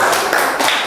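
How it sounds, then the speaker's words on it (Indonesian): A short burst of classroom applause for a student who came to the front, a dense wash of many hands clapping at once, close and fairly loud for about a second. "tepuk tangan untuk Mbak Vio karena sudah berani maju"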